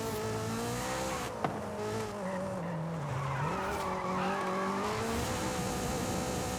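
A turbocharged Honda drifts in the racing game Forza Horizon 5, its tires squealing steadily over a droning, shifting engine note that dips and rises as the car slides.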